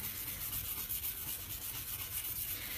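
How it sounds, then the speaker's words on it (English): A Spirinet scrubber works over a dirty kitchen stove with quick, rhythmic back-and-forth rubbing strokes, a close, gritty scratching that continues without pause. "you can use these little spirinet scrubbers"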